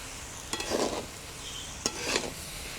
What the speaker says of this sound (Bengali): আবারও একটু নেড়ে চেড়ে নেব।